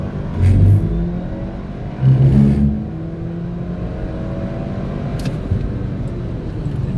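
A Dodge Hellcat launches hard with launch control engaged, its engine surging loudly in two strong bursts before settling into a steady, sustained roar as the car keeps accelerating.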